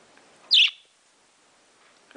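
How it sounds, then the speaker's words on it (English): Single short, bright chirp from a pet bird, close and clear in an otherwise quiet room, followed by faint rustling. "Okay, we know you know how to chirp."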